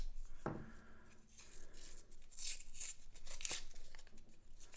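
Thick paper wrapper on a roll of half dollar coins being ripped open, a sharp tear followed by softer crinkling and rubbing, close and fairly quiet with no talking.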